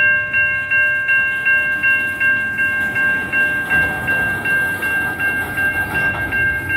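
BNSF 6279, a coal train, rolls through Effingham with a loud, pulsing rumble of moving cars and a repeating high ringing tone over it.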